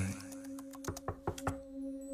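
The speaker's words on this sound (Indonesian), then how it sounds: "Kembali terdengar ada yang mengetuk pintu kamarku lagi." A series of about six quick knocks on a bedroom door, evenly spaced, faint and close, over a low steady hum.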